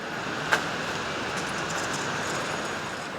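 Steady broadband rumble of a Bangkok MRT subway train running, with a brief sharp click near the start and no voices.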